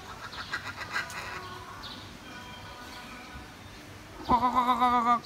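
An unidentified caged bird with a large, parakeet-like beak at a seaside mini zoo gives scattered soft calls, then a louder burst of chirping near the end.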